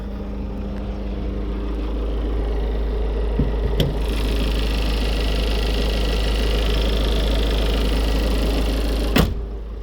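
A steady low diesel engine idle from a 2020 Toyota Proace 2.0 van hums throughout, with the hood open and a couple of sharp clicks near the start and end; no talking.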